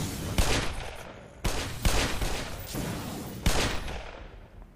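Gunshots fired from a weapon in the video game Black Mesa: three loud, sharp broadband blasts spaced a second or more apart, each trailing into a rumbling, echoing decay with no voices.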